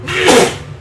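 A single sharp sneeze bursts out at moderate loudness during a tabletop roleplaying game session, then trails off quickly with no talk over it.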